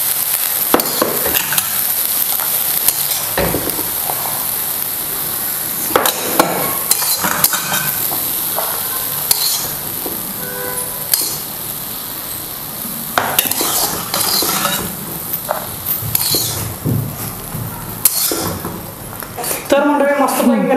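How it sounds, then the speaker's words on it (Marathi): Hot mixed-sprout usal is scraped and served from the pan onto a plate with a metal spoon. Loud stirring scrapes and clinks of cutlery on cookware run throughout, and a person talks over them. "इकडे आहे ना गरमागरम आपण प्लेटमध्ये घेऊया"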